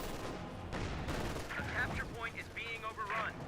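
Rifle fire from riflemen tearing into a Grenadier in Company of Heroes 2, dense crackling volleys and bursts running steadily throughout, with a caster's voice talking over the combat.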